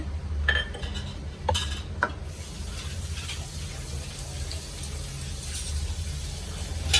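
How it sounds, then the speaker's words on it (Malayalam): A spoon stirring a mixture of milk powder and cocoa powder, a few light scraping clinks early on over a low steady hum, faint and close. "നന്നായിട്ടൊന്ന് ഇളക്കി കൊടുക്കാം."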